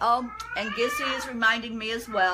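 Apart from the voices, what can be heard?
cat meowing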